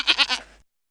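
A goat bleats in three quick wavering pulses, fairly loud and close, fading out within a second and followed by silence.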